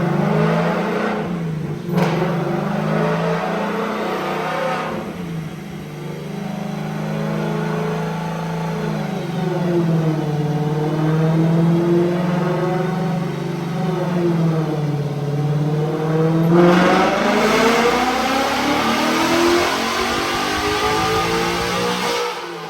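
Ford Mustang Dark Horse V8 with long tube headers, revving hard through rising and falling sweeps up to the soft limiter, a loud, raspy close-up engine note sustained throughout with a brief throttle lift midway.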